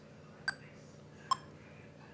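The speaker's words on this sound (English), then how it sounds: "that you're setting the tempo on your metronome and that you're practicing with the metronome" A metronome set to 72 beats per minute gives three crisp, evenly spaced ticks, each a clean beep against a quiet background.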